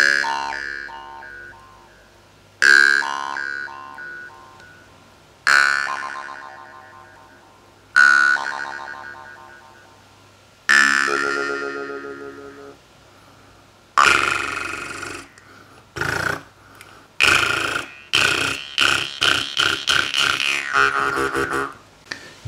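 Jaw harp played with a rolled tongue, giving a buzzing twang: five separate decaying plucks, then a rapid flurry of fluttering, rattling strokes, close and loud with no talk.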